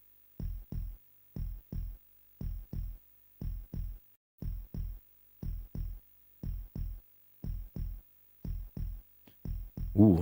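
Heartbeat sound effect in a video game: steady paired lub-dub thumps repeating about every second, clear and close, with a brief rustle at the very end and no voices.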